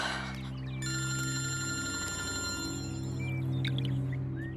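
A telephone rings on and on unanswered indoors, its steady electronic ring sounding alone with no one talking.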